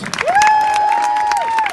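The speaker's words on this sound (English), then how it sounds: "Big round of applause for Jacob on guitar." Applause for a school jazz band at a Tower of London concert: a dense patter of clapping runs steadily throughout the short stretch, with a sustained whistle-like tone riding over the crowd.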